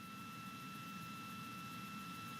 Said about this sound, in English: The RD-180 engine continues to burn.